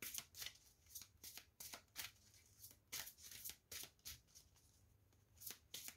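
Tarot cards being shuffled, a quiet series of short riffling and slapping bursts in an uneven rhythm, close and soft, with no talk over them.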